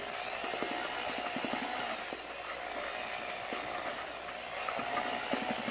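A power drill with a mixing paddle churns metallic epoxy pigment for a floor coating, a steady broadband whir that runs unbroken throughout with faint rhythmic knocks underneath.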